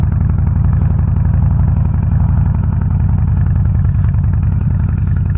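A Harley-Davidson Softail Slim with a 103ci engine runs close by, a loud, steady, deep throbbing rumble with an even lumpy pulse throughout and no talking.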